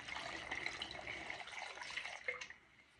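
Water poured into a blender while making wellness shots, a quiet, steady close-up trickle and splash that tapers off near the end.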